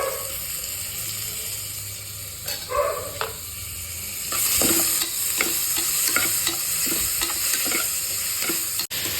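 Tomatoes fry in a pan with ginger-garlic paste for tomato bath, making a continuous loud sizzle that swells midway, with repeated scraping stirs and a spoon tap near the end.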